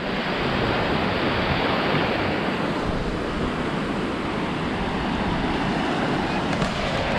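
Surf at Edisto Island beach in South Carolina, a steady broad wash of waves rolling in, with some wind noise across the microphone and no clear voices.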